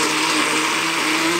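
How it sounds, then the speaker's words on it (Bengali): Blender whirring steadily at close range while grinding ingredients for a homemade Bangladeshi bharta, a loud continuous motor drone with no pauses and no voices. "আমি এখন ব্লেন্ড করে নিচ্ছি।"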